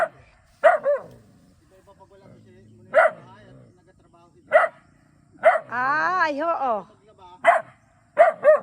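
A dog barks in sharp, separate yaps spaced a second or two apart, close by, with a short whining vocal passage in the middle and a brief spoken exclamation.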